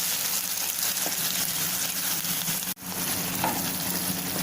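Tomato puree cooks in a pan for vegetable pasta, filling the space with a steady, close, bubbling sizzle that cuts out for an instant midway, with no one speaking.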